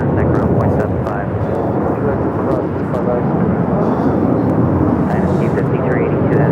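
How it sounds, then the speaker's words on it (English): A United Airlines Boeing 757-200 taking off at LAX, a loud sustained engine roar filling the whole stretch, with a voice talking over it. "This is United Airlines 1981 taking off to Newark on the 757-200."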